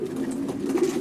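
Racing pigeons in a stock loft coo softly and continuously, a low steady murmur of several birds close by with no talk.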